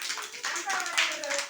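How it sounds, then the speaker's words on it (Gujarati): Young children at a preschool activity clap their hands in an uneven, scattered rhythm close by, while a voice talks over the clapping. "તાળી વગાડો બધાય"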